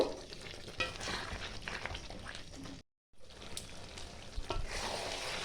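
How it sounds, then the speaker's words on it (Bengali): Chicken bhuna is sautéed and stirred in a pan, giving a close, crackling fry with scraping spoon strokes, briefly cut to silence midway before the sizzling and stirring resume. "এইভাবে আরও আমি দু মিনিট কষিয়ে নেব"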